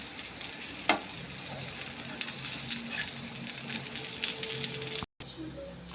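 Soybean snack pieces sizzle and fry steadily in hot oil, a continuous crackling hiss with a brief sharp clink near the start and a short cutoff near the end.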